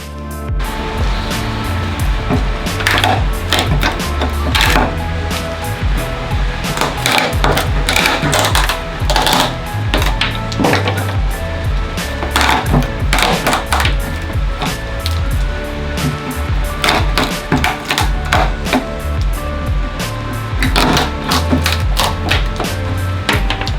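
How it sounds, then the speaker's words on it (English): Jigsaw cutting wooden boards while building a workbench, a steady loud buzzing rasp with clattering that continues for most of the time, close by and with no talk. "the jigsaw made quick work of these LBLs"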